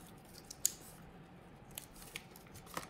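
Scissors snip open a trading card pack, a few quiet, sharp cuts spaced across a calm, near-silent moment.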